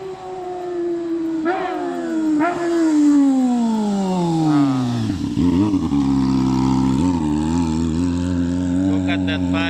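Kawasaki ZX25R motorcycle exhaust revving hard and close, a loud high-pitched engine wail sweeping up and down repeatedly, settling into a throbbing idle before sharp blips near the end.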